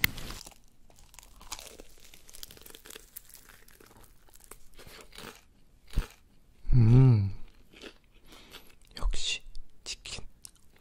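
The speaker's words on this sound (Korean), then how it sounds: "진짜 고무 씹는 소리 나요 고무 떡입니다" Someone chews a chewy, rubbery rice cake close to the mic in an ASMR setting, giving a loud burst of wet, squishy chewing around the middle, with soft whispering and quiet mouth sounds before and after.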